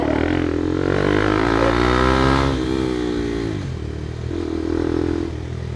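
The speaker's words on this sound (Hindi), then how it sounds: "एक बार आवाज़ सुनाते हैं एग्जॉस्ट की फटाफट से।" A Bajaj Pulsar NS400Z motorcycle revs while riding, its exhaust rising in a loud, climbing engine drone, then dropping back and swelling again, close and continuous with no talk.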